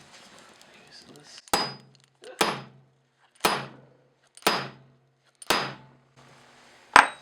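Six sharp metallic strikes of a center punch marking a Mazda Miata part for drilling, evenly spaced about a second apart, close and loud with ringing decay, faint background talk between.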